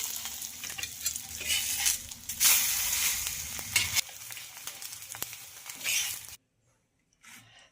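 Egg-coated bread slices (anda pav) frying in a pan, a close, lively sizzle with stirring and scraping sounds, fading out and stopping near the end.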